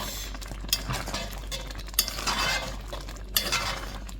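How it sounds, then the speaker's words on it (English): Food being stirred in a pan while an easy dinner cooks, with soft scraping and clinks of a utensil against the pan and light sizzling, close and fairly quiet, no talking. "at this point you need to stir often because they will stick and burn"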